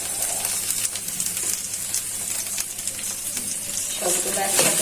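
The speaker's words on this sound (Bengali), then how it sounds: "সবগুলো একসাথে সুন্দর করে ভেজে দিচ্ছি।" Pistachios, cashews, dates and raisins fry together in ghee in a pan while being stirred, giving a constant bright sizzle with scraping and clinks throughout, growing busier toward the end.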